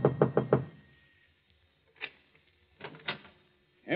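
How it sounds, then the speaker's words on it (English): Knocking on an apartment house door, a radio drama sound effect: a quick burst of three or four sharp raps up close, a pause, then two more separate groups of knocks, with no talking. "climbs to the top floor, and knocks on the door."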